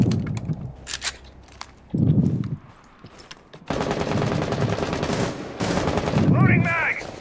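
Rapid automatic gunfire bursts from the tactical shooter Rainbow Six Siege, loud and close, with a short burst, a pause, then a long sustained volley and one more heavy burst near the end.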